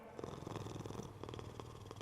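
A cat purring in the video game Hades 2, a steady, continuous rumbling purr heard on its own over a faint game backdrop.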